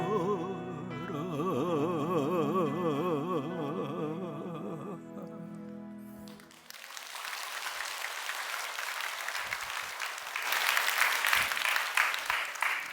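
Church congregation clapping after a hymn at a Sunday service, following a sustained sung and organ passage; the applause rises to a full, steady round of many hands and carries on to the end.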